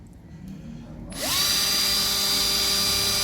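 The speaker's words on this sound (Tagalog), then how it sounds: "check natin kung talagang gumagana o hindi unahin natin tong drill" Cordless power drill running on a DIY 3S 12V 18650 battery pack, starting after a quiet moment with a quick rising whine, then holding a loud, steady high-pitched motor hum close by.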